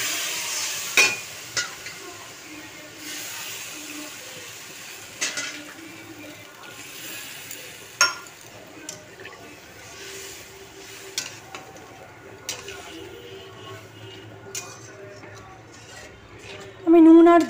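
Turmeric, chilli powder, cumin powder, sugar and water stirred in a pan: a spoon scrapes and clinks against the metal in scattered strokes over a low sizzle, close up and with no talk.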